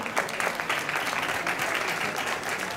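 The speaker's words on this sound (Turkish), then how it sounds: "En büyük alkışlar bence bu gece Öykü'ye olsun." Audience applause for Öykü at an evening stage event, a steady wash of clapping that holds evenly from start to finish with no talk over it.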